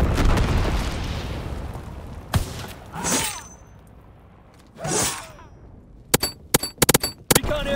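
Incendiary bombs from a low-altitude bomber explode in the Call of Duty WWII game: a rumbling blast fading out, sharp cracks, two rolling bursts, then a quick cluster of loud pops.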